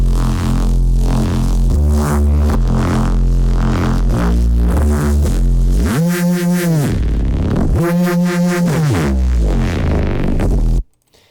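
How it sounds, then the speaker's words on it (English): A Reese bass preset on Bitwig's Polymer synth, with two stacked, detuned voices, plays loud, thick, buzzing bass notes in a rhythmic sequence with slow pitch sweeps in the middle, then stops abruptly. "a new Reese Bass preset I've done in Bitwig's Polymer"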